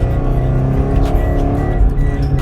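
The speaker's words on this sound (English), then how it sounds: "And that was a 0 to 60 in a very tight corner" A rare-spec Subaru BRZ powers hard out of a very tight corner, its engine revving loud and close with a rough, rising growl and a faint hint of tyre squeal.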